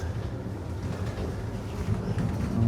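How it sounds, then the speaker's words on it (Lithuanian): A passenger train rolls into Bratislava station, a steady low rumble of wheels and carriage noise that grows slightly louder toward the end, with no voices. "Atvyksta traukinys į Bratislavą."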